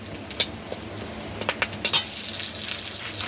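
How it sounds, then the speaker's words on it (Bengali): Whole garam masala and bay leaves sizzling in hot ghee, with a soft steady crackle under a few sharp clicks of a spoon stirring against the pan. "ঘি দিয়ে দিয়েছি, এবার দেবো গোটা গরম মশলা তেলের উপর"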